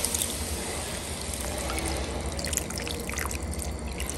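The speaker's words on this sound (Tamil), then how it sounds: "ஸோ ஒரு கப் அளவு தண்ணி ஊற்றிக்கிறோம்." A cup of water is poured into a pan of mushroom masala, making a steady liquid splash and trickle with small bright drips over the continuous noise of the pan.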